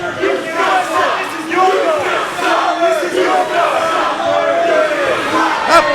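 A wrestling event crowd roars and shouts in waves, loud and close, with rising chant-like cheers and whoops filling the arena throughout.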